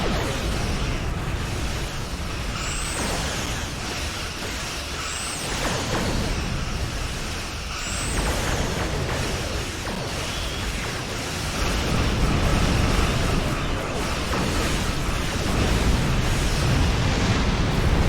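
A dreadnought starship blows up in a Star Trek Online space battle, a long roaring blast of dense rumbling noise that swells again near the end. Short whooshing weapon streaks cut through it.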